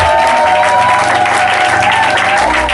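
A church congregation applauds and cheers loudly and continuously at close range. The clapping is dense and sustained, with a faint held tone running through it.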